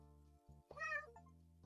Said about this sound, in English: I love how they meow whenever I click on them.